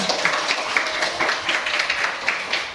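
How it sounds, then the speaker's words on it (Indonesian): A class claps together at the teacher's request, producing a brief burst of fairly loud, uneven applause with rhythmic pulses over several seconds. "Nah, betul semua, tepuk tangan."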